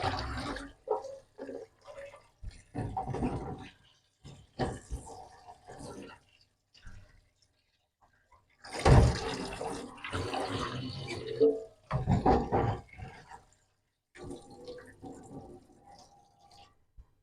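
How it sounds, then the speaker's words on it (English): Tap water runs and splashes over soaked beans being rinsed after a vinegar soak, coming in bursts separated by pauses, with some water noise near the sink. "rinse with water,"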